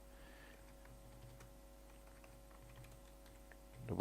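Light typing on a computer keyboard: soft, scattered keystrokes ticking along quietly over a low steady hum, ending with a louder bump.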